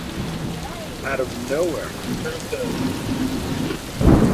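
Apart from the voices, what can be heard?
rain and thunder during a storm on a road trip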